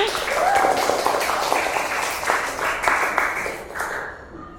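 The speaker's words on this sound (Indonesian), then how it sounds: "Kasih tepuk tangan semuanya" A classroom of students applauds as a group steps up to present, steady dense clapping close by for about four seconds before stopping abruptly.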